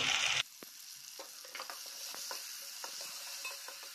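Onion, curry leaves and tomato frying in oil for hotel-style misal pav: a loud burst of sizzle at the start as ingredients hit the pan, settling into a softer steady crackle with occasional spoon-and-pan scrapes, no voices.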